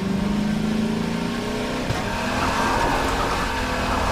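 A vehicle engine revs loudly under turbo boost in the Half-Life 2 video game, with a continuous droning, rising whine and no voices.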